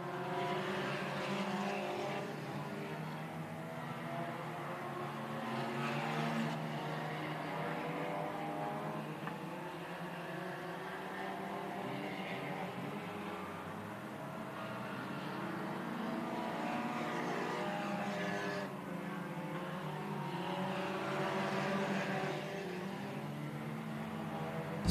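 Dwarf cars racing at Kennedale Speedway Park, a steady roar of several engines droning together from a distance, swelling and easing as the pack circles the track, with no voice over it.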